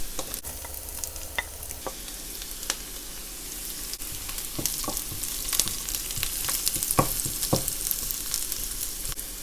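Chinese sausage frying in oil in a wok for fried rice sizzles steadily up close, with repeated sharp spatula scrapes and clicks as the pieces are stirred, and no voices.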